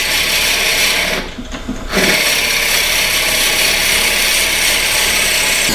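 A power drill bores into wood for a cryptex at about 800 rpm, a loud, steady grinding whir that briefly dips and quiets near the one-second mark before carrying on evenly to the end.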